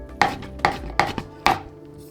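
A knife chops onion and pickles into fine cubes on a cutting board for potato salad, giving four sharp, close thuds spaced evenly with no talking.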